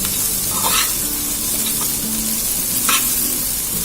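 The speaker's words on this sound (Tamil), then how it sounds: "பாருங்க நல்லா ஃப்ரை ஆகுது." Okra fries in oil with masala powder, giving a loud, steady, close sizzle, and a spoon stirs it with occasional scrapes and clinks.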